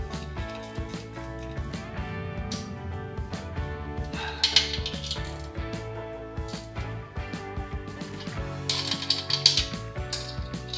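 A ratchet tightens the rocker arm bolts on a Harley Twin Cam engine in a crisscross pattern, giving steady, close clicking in repeated bursts with a few sharper metallic clinks.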